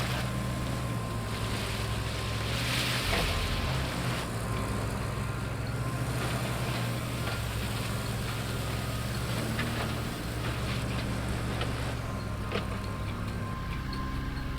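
A vehicle wading through water in the Roadcraft video game, a steady low engine rumble with continuous sloshing and splashing, moderate and unbroken, no voices.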